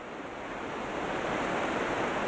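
A river rushing near La Fortuna waterfall gives a steady, dense roar of flowing water that holds evenly close by for the whole stretch, with no voices over it.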